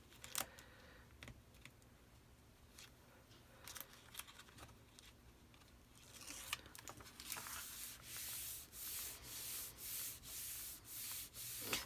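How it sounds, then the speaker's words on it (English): Backing tape peeled off paper during folio album crafting, heard as scattered soft rustles and papery scrapes that build into a steady run of rhythmic rasping strips toward the end, close and alone. "Then I can take my back tape off."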